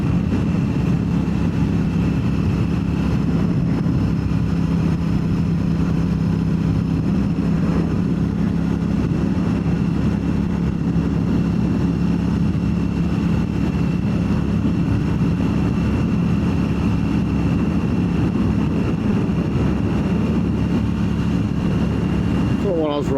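A Royal Enfield Classic 650 motorcycle engine while riding, a steady low rumble with constant wind noise throughout, a voice speaking over it.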